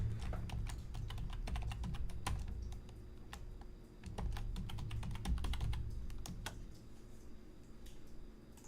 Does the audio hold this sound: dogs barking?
no